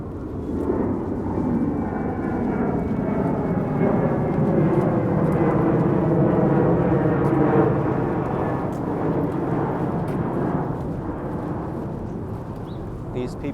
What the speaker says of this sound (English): And there's a plane that's taking off from LaGuardia.